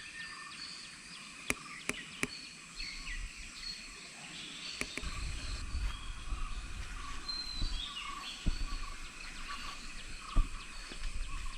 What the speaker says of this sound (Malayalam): കാടിൻ്റെ വൈബും പക്ഷികളെ സൗണ്ടും അല്ലേ, കേൾക്കാൻ എന്ത് സുഖം